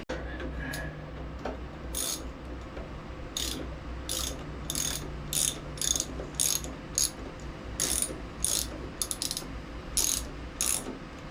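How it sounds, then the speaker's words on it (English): A ratchet clicks in quick bursts while tightening the spark plug on a John Deere D110 riding mower, with repeated short runs of crisp, close-up clicking over faint background noise. "we will throw that plug back in and actually tighten it this time"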